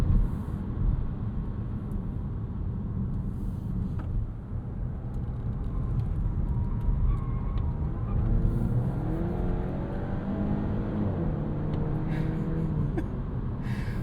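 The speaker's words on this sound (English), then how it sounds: "I'm gonna leave this in drive and we're gonna take this around a spirited corner here." A 2026 Volvo V60 Cross Country wagon with a 2-liter engine taking a spirited corner in drive, its engine droning steadily from inside the cabin with a rising whine as it pulls through the bend.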